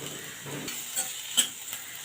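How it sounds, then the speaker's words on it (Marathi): Sliced onion sautés in a pan with a constant close sizzle, over which a few light scrapes and one sharp clink of the stirring spoon are heard in a brief burst. "कांदा थोडा हलका मऊ होईपर्यंत परतून घेऊया"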